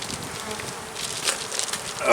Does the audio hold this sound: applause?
no